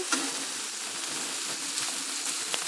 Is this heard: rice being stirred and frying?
yes